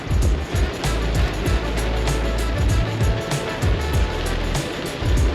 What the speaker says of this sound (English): The rain is being obstinate and it is beating so precipitously.